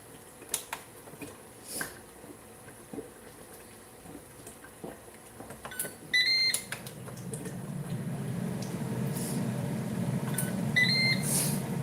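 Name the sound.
air fryer running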